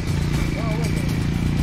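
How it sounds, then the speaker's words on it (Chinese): Motorcycle engine running close behind on a mountain road in Litang, Garzê, a steady low throbbing drone with a clattering edge while a person talks over it. "后面有摩托车耶"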